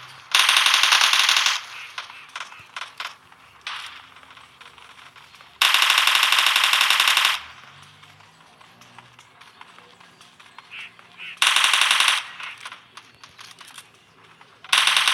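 Machine gun fire in the mobile game PUBG Mobile Lite, three loud sustained bursts separated by quieter stretches of rapid tapping and clicking, close and harsh, with no clear talking.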